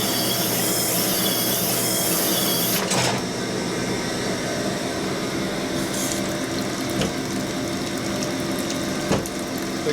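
A honing stone works inside a Harley-Davidson Evolution engine cylinder under increased pressure, making a loud, continuous grinding whir with rattling mechanical texture and a few brief dips and clicks.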